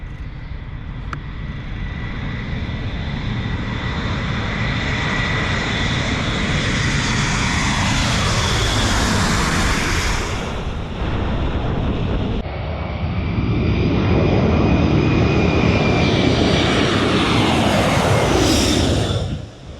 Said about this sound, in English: There are some engines running. It might just be ground runs